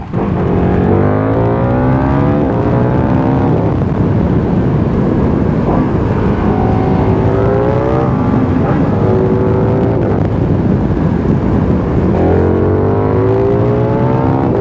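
A KTM 1390 Super Duke R motorcycle engine roars loud and close throughout the ride, its pitch rising and falling through repeated accelerations and gear changes under heavy wind rush.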